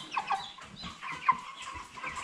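A hen clucks repeatedly while being handled for weighing on a poultry farm, short sharp calls close by over a busy flock of broiler chickens in the background.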